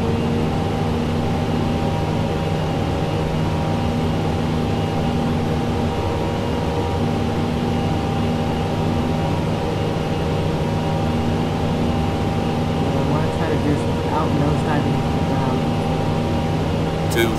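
Simulated aircraft engine at full power during an overspeed test in Flight Simulator X, a constant loud droning roar with steady tonal hum, unbroken throughout with faint clicks near the end.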